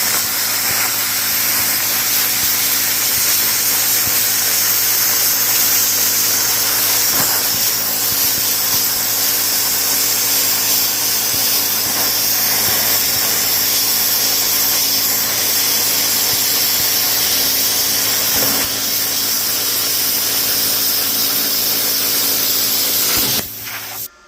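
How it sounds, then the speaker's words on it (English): A plasma cutter with onboard air on 220 volts slices through steel with a loud, steady hiss that runs unbroken for about 24 seconds, then cuts off abruptly. "I'm not saying you have to have a plasma cutter."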